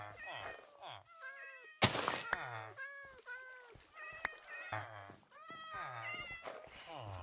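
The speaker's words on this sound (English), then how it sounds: "There is so many cats here." Several cats meow repeatedly in a close, busy chorus, with overlapping rising and falling cries and a sharp thump partway through, the calls continuing steadily without any talk.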